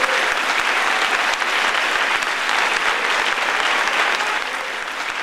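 Congregation in a church breaking into sustained applause, a dense even roar of clapping with some sharp individual claps standing out, easing slightly in loudness toward the end.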